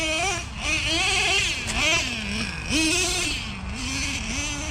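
Nitro engine of a Traxxas Revo 3.3 RC monster truck revving, pitch rising and falling in repeated whining surges, moderately loud and continuous.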